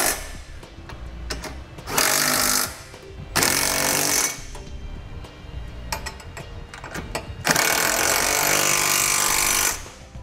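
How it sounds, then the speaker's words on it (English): A power tool tightens trailer hitch hardware on a 2017 Hyundai Tucson during installation of a Curt hitch receiver, with several loud buzzing bursts of a few seconds each separated by quieter clatter and handling noises. "Now we can tighten all of our hardware down."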